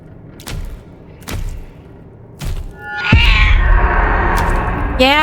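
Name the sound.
angry cat meowing in a video game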